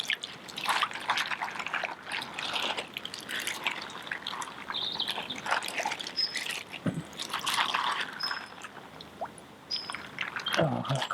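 Water trickling and dribbling through a filter bag at a bushcraft camp, a continuous uneven splashing patter close by, with faint bird chirps and some speech in the background.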